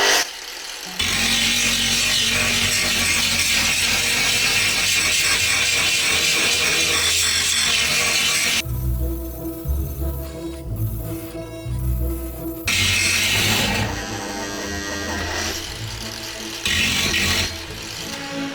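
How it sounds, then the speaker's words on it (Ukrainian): A Bosch GWS 17-125 angle grinder on its first speed setting grinds steadily with a loud, harsh, close-up roar. The tone shifts partway through as the load changes, with no talking. "Давайте попробую на першому режимі пошліфувати, чи не буде йти в захист"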